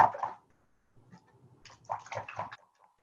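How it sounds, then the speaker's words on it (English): A paint brush is swished and rinsed in a container of water, giving brief sloshing and gurgling bursts with short pauses between, close and clear with no talk. "I'm going to wash that brush."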